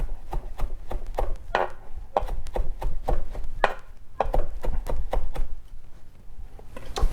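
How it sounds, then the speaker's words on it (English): A knife chops fresh vegetables for an Afghan salad on a cutting board in quick, irregular runs of crisp close-up strikes with brief pauses between bursts. "pass the knife again to get a rough chop"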